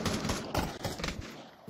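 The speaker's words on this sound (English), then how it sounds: "There's a lot of gunfire." Gunfire in the virtual reality shooter Pavlov, a burst of rapid overlapping shots and thuds heard at moderate distance, with several sharp cracks spread through the short stretch and no talk over them.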